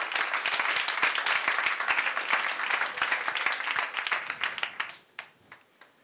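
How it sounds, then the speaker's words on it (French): An audience at the Jamespot Night event in June 2024 applauds for Laura: dense, steady clapping from a crowd that thins out and dies away into a few scattered claps over the last second. "Applaudissements pour Laura, s'il vous plaît"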